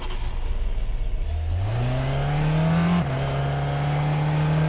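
A Chrysler Pacifica in the Fortnite video game revs hard, its engine note climbing in pitch, briefly dropping, then holding a loud, steady high drone, close and without talk.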